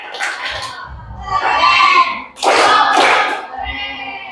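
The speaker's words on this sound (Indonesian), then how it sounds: "tepuk tangan dulu untuk kelompok Valen" Classroom group clapping for a student team during an Indonesian school coaching session, a few bursts of hand claps with cheering and chatter, moderately loud and close.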